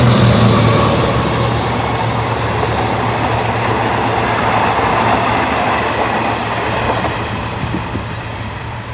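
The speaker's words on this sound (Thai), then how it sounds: "ปู GEK 4038ทำขบวน 260 นะครับ กำลังเข้าจอดที่ชุมทางหนองประดุกนะครับ" Thai State Railway GEK 4038 diesel locomotive hauling a passenger train into Nong Pradu junction, a steady loud rumble of engine and rolling wheels with a low droning hum, gradually fading slightly toward the end.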